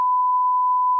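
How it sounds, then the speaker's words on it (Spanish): An alarm on a fishing boat out trolling sounds a single steady electronic beep, one continuous mid-pitched tone that holds evenly for about a second, loud and alone. "Justo suena la alarma"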